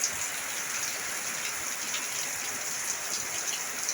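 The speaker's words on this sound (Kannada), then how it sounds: "ಇದು ರಿಪ ಅಂತ ಆವಾಜ್ ಬರಾಗ್ತದೆ ಯಾಕೆ ಎಷ್ಟೊಂದು ಮಳೆ ನೋಡಿ" Dense, steady downpour hammering a surface, a continuous loud hiss of heavy rain with no voices or other sounds.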